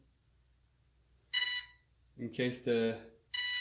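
Two short electronic beeps from a model glider's electronic speed controller ring out, one before and one after a brief spoken phrase, in an otherwise quiet room.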